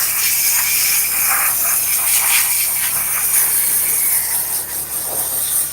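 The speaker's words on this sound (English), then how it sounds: "And now you start steaming these vents to get all this grime off." A steam cleaner hisses steadily as it is worked over a car's grimy plastic air vents, a continuous loud rushing spray with faint rubbing and scrubbing textures throughout and no talking.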